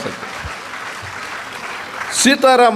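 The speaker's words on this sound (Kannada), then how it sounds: "ಒಡೆಯರಿ ಚಪ್ಪಾಳೆ ಜೋರಾಗಿ" A crowd applauds with a steady wash of clapping for a couple of seconds, then a voice starts speaking over it.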